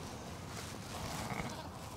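A homebred ewe of about three years, one crop, at lambing time bleats amid steady barn noise, with the animal calls moderately loud and near, and no speech over them.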